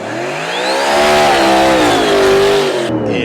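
A Dodge Hellcat muscle car with a freshly installed engine launches down a Las Vegas drag strip, its loud, close engine roaring and rising in pitch for about three seconds before cutting off abruptly.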